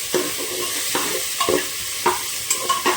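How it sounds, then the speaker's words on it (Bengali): Potato, onion and tomato frying together in a pan with green chilli, a steady sizzle broken by several scraping stirs of a spatula spaced through the moment, close and fairly loud. "আলু, পেঁয়াজ, টমেটো একসাথে ভাজা হতে থাক।"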